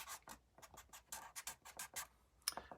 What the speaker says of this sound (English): I think I'm going to write down relax